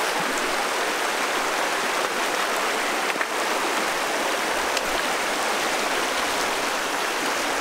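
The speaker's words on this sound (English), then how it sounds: "the rapids here are much higher because they flow over a higher rock" Brook rapids pouring over rocks, a steady broadband rushing hiss of turbulent water that holds even and loud from start to finish, with no voices.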